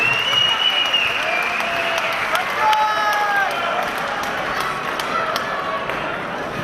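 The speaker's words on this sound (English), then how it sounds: "A big round of applause for Tass the Tsirras" Sustained audience applause fills the space, dense steady clapping from a crowd with a few voices and whistles mixed in, loud and continuous throughout.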